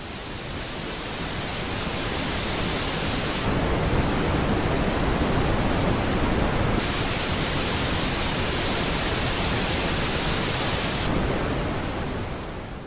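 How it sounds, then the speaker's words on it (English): A steady, unbroken hiss of pink noise, warm and full in the low end, constant in level with slight shifts in brightness. "Pink noise has a preference for the lower frequencies."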